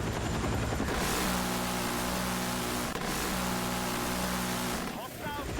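A helicopter in a video game, a loud continuous rotor and engine roar filling the whole stretch, with a short break in the middle and a voice near the end.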